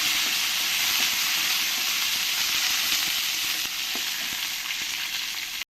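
Dried red chillies and curry leaves sizzle and crackle steadily in hot oil in a pan, a loud continuous frying hiss with occasional stirring scrapes, for cabbage cooking.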